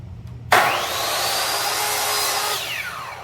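A power saw spins up sharply and cuts through a rattan pole, a loud steady whining grind lasting a few seconds that then tapers as the blade finishes, close and without talk.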